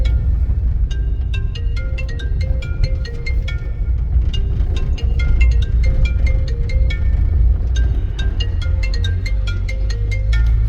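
A repeating electronic phone ringtone melody plays over a steady low rumble of traffic beside a flyover under construction on Malir Expressway, its short tonal notes cycling for the whole stretch.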